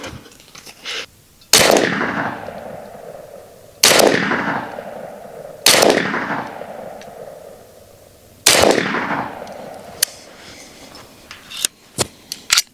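Four loud, sharp shots from a big bore air pistol spaced a couple of seconds apart, each with a brief echoing tail, followed by a few lighter clicks at the end.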